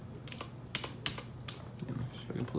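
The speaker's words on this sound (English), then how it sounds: "If I hit enter on my keyboard" Computer keyboard keys clatter in a quick, irregular series of sharp clicks at a desk during a Raspberry Pi electronics build, fairly close, with faint room noise between the taps.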